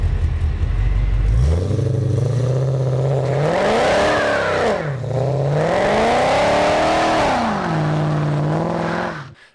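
Mercedes AMG naturally aspirated V8 revving up from idle, climbing and falling in two strong swells before settling back, loud and close with no voices.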